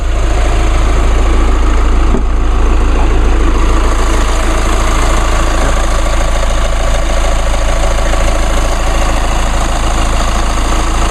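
A Chevrolet Colorado pickup's 2.8 liter four-cylinder Duramax turbo diesel idles with the hood open, a loud, steady rumble and clatter close up with no voices.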